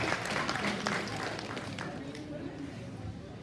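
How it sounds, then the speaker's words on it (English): Audience at a livestock swine show ring gives a round of applause that is moderately loud at first and then tapers off, with talk murmuring underneath. "Give them all a big round of applause, the extra ring."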